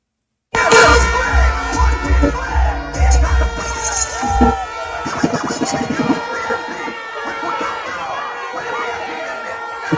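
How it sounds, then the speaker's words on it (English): Outdoor crowd at a by-election nomination day booing a minister, a loud mix of jeers, shouts and chatter with scraping noise, swelling and subsiding over several seconds. "They're booing her too."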